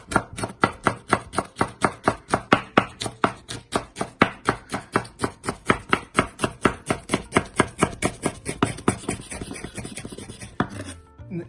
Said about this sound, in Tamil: கொஞ்சம் அப்படியே ரோல் பண்ணிட்டு ஃபைனா அப்படியே ஸ்லைஸ் பண்ற மாதிரி